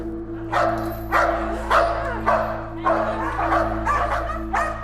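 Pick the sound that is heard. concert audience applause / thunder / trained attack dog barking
trained attack dog barking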